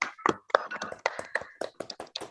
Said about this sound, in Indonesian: Silakan berikan tepuk tangan untuk kelompok 1 dulu.